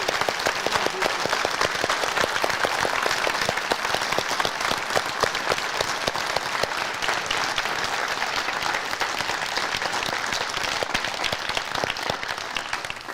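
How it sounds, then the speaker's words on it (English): A large audience at the Cast in Steel 2023 testing day gives the students a sustained round of applause, dense, even clapping that holds steady for over twelve seconds before easing slightly at the end. "So let's give all of our students a big round of applause."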